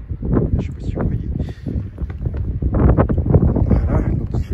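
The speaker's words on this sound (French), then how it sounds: "vous voyez un peu les rafales de vent" Strong wind gusts during snowfall roar and buffet the microphone in a continuous loud rush, swelling and easing over several seconds with no clear speech on top.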